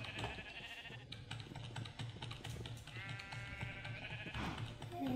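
Sheep in the Minecraft video game bleat repeatedly in wavering cries, heard close over a busy background of game sounds and keyboard clicks.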